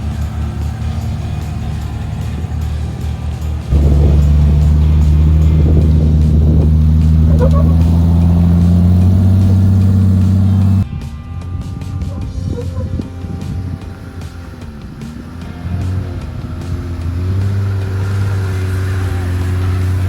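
Off-road vehicle engine climbing a rock fin at Moab under steady throttle, a loud continuous low rumble that lifts into a strong drone partway through and then settles lower, with wind noise.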